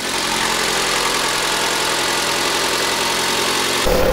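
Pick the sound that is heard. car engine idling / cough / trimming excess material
car engine idling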